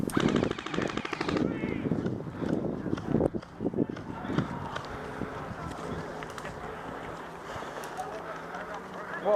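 Airsoft guns firing during an outdoor club game, rapid bursts of plastic-sounding shots early on fading into scattered distant pops under wind and outdoor noise, with people talking.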